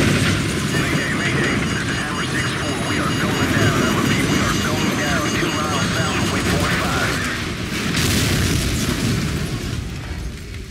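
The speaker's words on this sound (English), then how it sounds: "Incoming missile." A heavy incoming missile explosion in the Call of Duty 4: Modern Warfare video game, a sustained rumbling roar with a fresh surge near the end, loud and steady, with voices faintly mixed in.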